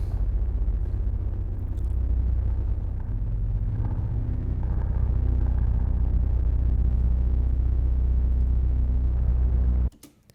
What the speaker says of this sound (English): So what you're hearing is the low drone